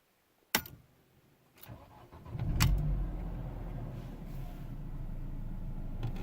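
A Ford Focus Mk1 car, built 1998 to 2002 and in good condition, has its engine started with a few clicks, then a crank that catches into a smooth, quiet, steady idle, close by.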